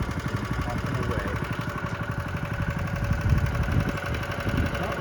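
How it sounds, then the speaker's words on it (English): A small water pump engine idling beside a park lawn, puttering with a steady low rhythmic chug that carries on throughout at moderate distance. "Yeah, the pump's running."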